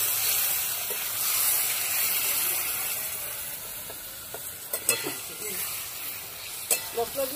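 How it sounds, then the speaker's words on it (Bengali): Spices sautéed with tilapia fish curry in a pan, a continuous soft sizzle and hiss with a few sharp spoon scrapes and clinks toward the end, close by and without talk. "মশলা দিয়ে ভালো করে কষিয়ে নিচ্ছি"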